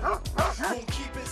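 Livestock guard dogs in an Alpine pasture barking and yipping, several close, loud bow-wows overlapping in quick succession with a short whimpering edge.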